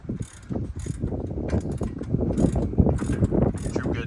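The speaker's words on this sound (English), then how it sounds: "Gotta torque bolts onto the back real quick." A ratchet or torque wrench tightening brake bolts on a Vanagon, giving a close series of mechanical clicks and clunks with workshop rattles throughout.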